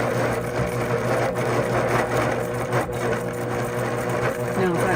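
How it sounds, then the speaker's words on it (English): A longarm quilting sewing machine stitches steadily to secure thread while couching, a loud close mechanical whir with a fast even stitching pulse that barely varies. "I'm just wiggling my machine just to secure this thread down"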